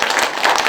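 A church congregation at a New Year revival service bursts into loud, close applause, with dense overlapping claps throughout the brief burst.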